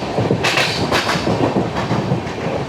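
The Gandhidham–Tirunelveli Humsafar Express rolls along the rails near Udhna, a loud steady rumble with rhythmic clickety-clack wheel beats heard close up, no voices.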